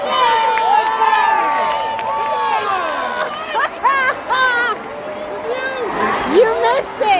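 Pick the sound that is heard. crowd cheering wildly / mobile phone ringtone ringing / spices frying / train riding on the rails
crowd cheering wildly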